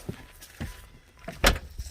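A Pontiac Fiero car door pops open with a short mechanical click and thunk, preceded by a few soft handling clunks, heard nearby and alone.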